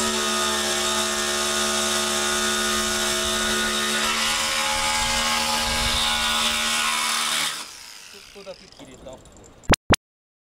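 A power tool cuts into the steel wall of a shipping container, giving a loud, continuous high-pitched whine and grinding for about eight seconds before winding down, followed by two sharp bangs.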